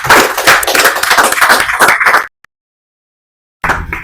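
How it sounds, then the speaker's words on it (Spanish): An audience at a lecture on Guatemalan political history claps in a steady, dense burst of applause for about two seconds, falls silent, then starts clapping again. "Nos recibamos por favor con un aplauso"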